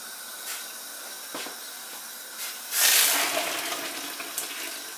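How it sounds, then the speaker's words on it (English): Hot dissolved sugar liquor is poured into a pot of boiling wort during all-grain beer brewing, giving a sudden splashing, hissing rush. A quieter watery bubbling and hiss sit underneath it. "It's brought to the boil and I shall now add that to the boil."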